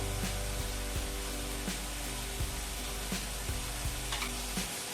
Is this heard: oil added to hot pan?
yes